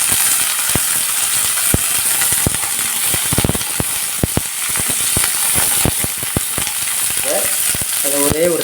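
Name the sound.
shallots and peanuts frying in pan for chutney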